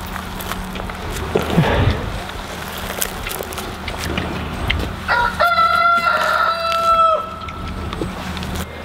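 Icelandic chickens on a farm: a rooster crows clearly and nearby, with scattered clucks and rustling before the crow; loud and close, no talking.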